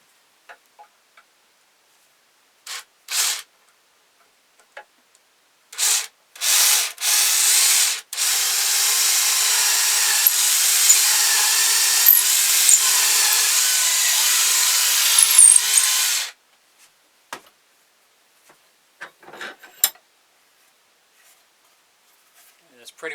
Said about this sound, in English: we're going to drill a hole for our string. I'm using a 1/4 inch drill bit.